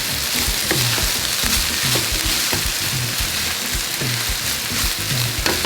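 Festive rice stirred in a hot pot: rhythmic scraping strokes of a spoon repeat steadily over a constant crackling sizzle, close and loud.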